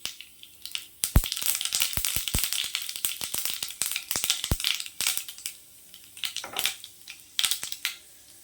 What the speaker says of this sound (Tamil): எண்ணெய் சேர்த்துக்கலாம். கடுகு, உளுத்தம் பருப்பு சேர்த்துக்கலாம்.